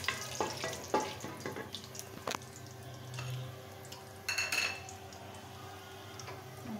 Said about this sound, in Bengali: দারচিনি আর চীনাবাদাম দিয়ে দিচ্ছি। এটা জাস্ট কয়েক সেকেন্ড ভেজে